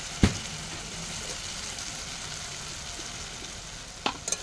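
A spice mix with chopped tomato fries in a pan for mint ghugni, a soft steady sizzle throughout with a couple of sharp clinks of a utensil near the start and end.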